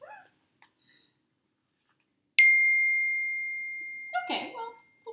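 A phone chimes with a single sustained ding that rings out and slowly decays, preceded by faint kitchen sounds and followed by brief talk.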